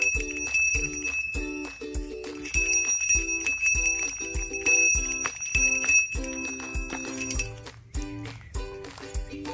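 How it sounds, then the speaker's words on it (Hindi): Bright metallic bells on a cow clank in a steady, repeating rhythm, close and loud, their ringing tones overlapping with each swing. "देखिए इसका ये घंटी है"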